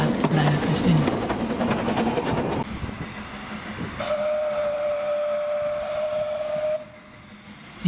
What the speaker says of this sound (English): The rather feeble whistle of Lyd marks its arrival at Boston Lodge Halt